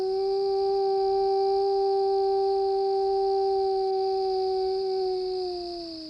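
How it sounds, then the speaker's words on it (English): A wild wolf in Algonquin Park, Ontario, gives one long, loud, steady howl that holds its pitch and then sags slightly toward the end. It is heard alone and clearly, with no other sounds over it. "A wolf howl in one of Ontario's largest and most famous parks, Algonquin."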